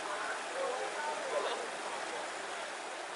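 A flowing stream in a creek where students have been building a small check dam, heard as a steady, unbroken rush of water that stays even and fairly close for the whole stretch.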